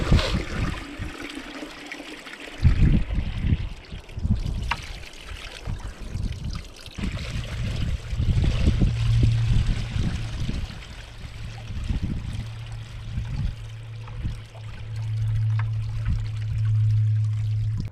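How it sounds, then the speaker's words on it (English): Water runs through a Gold Hog multi sluice charged for its first run, a steady close pour and trickle with a low continuous rush and occasional splashes and knocks. "Well, it's all charged with water."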